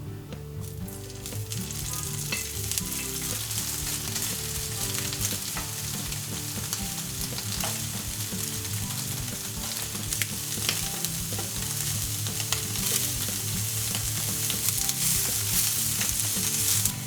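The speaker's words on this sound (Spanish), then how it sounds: "Ponemos un poco de aceite en la sartén a calentar y vamos a dorar primero el tofu." Tofu browns in hot oil in a frying pan, a loud, continuous close sizzle and crackle that holds steady throughout with no voices.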